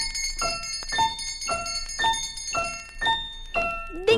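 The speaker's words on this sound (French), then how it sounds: "C'est la cloche de l'école" A bright school bell chime strikes eight times at an even, unhurried pace, each ringing tone lingering briefly before the next, with a short higher flourish at the very end.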